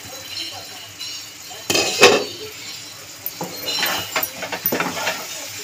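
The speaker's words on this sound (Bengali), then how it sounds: "ঢাকনাটা খুলে দেবো" A metal lid lifts off a pan of Malabar spinach and prawn chochchori with one sharp clank, followed by lighter clinks and stirring scrapes close by.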